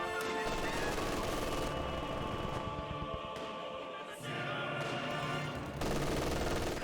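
MG42 machine gun fire in Company of Heroes 2 rattles in dense sustained bursts, layered with music-like tones and battlefield clutter, cutting out briefly before resuming loudly.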